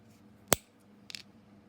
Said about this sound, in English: So I'm going to take my cutters and cut like right there.